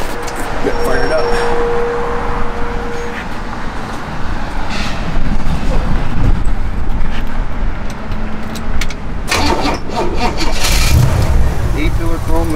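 A 1964 Chevrolet Impala SS with a 327 V8 cranks and fires up, settling into a steady idle rumble that runs throughout, close by, with someone talking over it.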